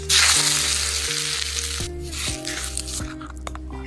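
Hot oil in an Indian kitchen sizzles loudly as a tadka tempering fries, starting as a dense, crackling burst and then settling into a softer, steady hiss with small pops.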